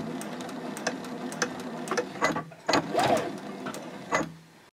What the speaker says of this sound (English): I'm sewing down to the second mark that's right here. When I get to that mark, I will stop and back stitch